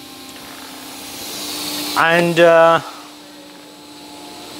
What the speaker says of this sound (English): For this machine, we use 2 vacuum pumps.